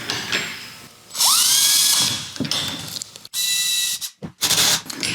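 A power drill drives a screw into a wooden shed door during fitting, with loud whining bursts that rise in pitch, stop and start again, and short clicks and handling noises between the runs, no talk.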